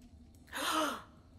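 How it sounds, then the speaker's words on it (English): Characters in the Tiny Tina video game let out a single sharp, breathy gasp together, a short rising-and-falling burst of air with no talk around it. "Wait, why are we gasping?"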